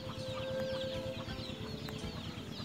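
Chickens cluck steadily while foraging with ducks in a rural village in Houaphanh, Laos. The clucking runs dense and close, with faint calls and a distant crow behind it, and no talk.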